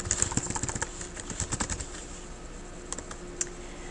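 Typing on a computer keyboard while filling in a header and footer: a quick run of close, crisp key clicks that thins out to a few scattered taps near the end.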